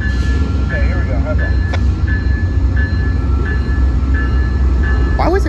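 The Amtrak Coast Starlight passenger train rumbles along at San Jose, a loud steady low roar with repeated bell-like tones and brief squeals, while people talk over a radio.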